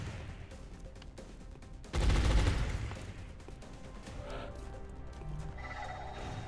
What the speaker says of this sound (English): Feels like everyone's shooting at me.